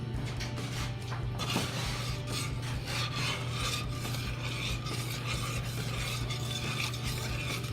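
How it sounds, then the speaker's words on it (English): A spoon scrapes and rubs steadily around a pot of pear relish base with sugar and dry seasonings, a continuous rasping stir over a constant low hum, no voices. "We want to make sure we stir it occasionally."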